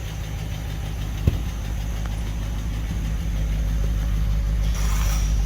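A 1949 Packard engine idles steadily up close with a faint, even ticking running through it, the low rumble holding constant throughout with no voices.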